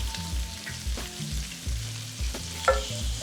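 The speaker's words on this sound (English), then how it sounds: "I'm gonna start adding my meatballs" Meatballs dropped from a frying pan into simmering tomato sauce with a Parmigiano Reggiano rind, a series of soft low thuds and plops over gentle bubbling and sizzle, close up and without speech.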